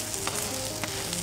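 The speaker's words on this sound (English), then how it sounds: "You hear the sizzle and you smell it," Pepper roti frying in a generous layer of ghee, a steady close sizzle with light crackles and faint scraping, no voices.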